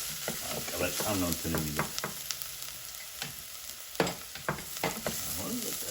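Chopped onion, garlic and tomato sauté in a hot pan for a tomato sauce, giving a steady close sizzle broken by stirring scrapes, while someone talks over it.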